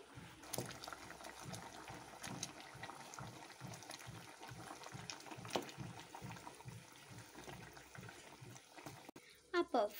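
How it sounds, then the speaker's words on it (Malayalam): A pot of chili and turmeric mixture with jaggery bubbles at a steady boil, soft rhythmic blips close by with a faint clatter at the end. "ഈ മുളകും പൊടിയുടെയും മഞ്ഞൾപ്പൊടിയുടെയും ഈ പച്ചപ്പ് മാറണ വരെ ഒന്ന് തിളച്ചാൽ മതി"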